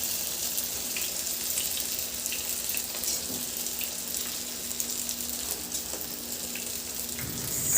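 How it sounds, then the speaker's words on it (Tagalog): Small eggplant cubes coated in cornstarch fry in a wok with a dense, hissing sizzle and scattered pops, steady and close with no voices. "iprito ko na rin yung 2 pirasong talong na hiniwa ko lang din ng mga maliliit na pa-cubes at kinoat ko ng cornstarch"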